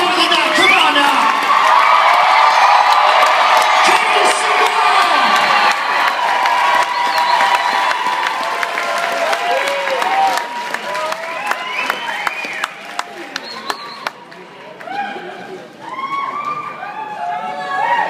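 A large live audience at a cast event in Milwaukee cheers, whoops and applauds in a loud, sustained roar that gradually thins out toward the end, with scattered shouts and voices mixed in.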